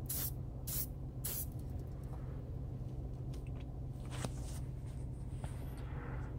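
Aerosol spray paint hisses in several short bursts near the start as light coats of teal go onto a Matchbox Land Rover Safari No.12 die-cast model, followed by quieter background noise.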